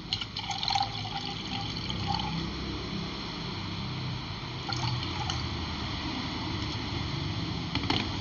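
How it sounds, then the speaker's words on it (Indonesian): Fifty millilitres of plain water is poured into espresso for bottled milk coffee, giving a steady close liquid trickle and splash that runs for several seconds with no talking. "Saya tambah air biasa 50 ml"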